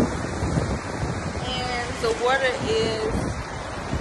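California beach surf rolls in as a steady roar of waves with wind buffeting the microphone, while a person speaks briefly over it.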